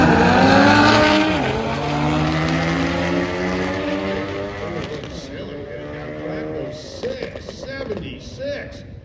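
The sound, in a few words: big-engined cars racing past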